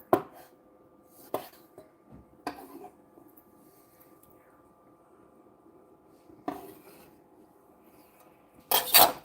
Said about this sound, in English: We still got more chopping. I told you there's a lot of chopping on this.